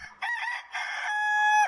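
A Castilian black rooster crows on an organic farm: one close, clear cock-a-doodle-doo in several rising bursts, ending on a long sustained note, alone without talk.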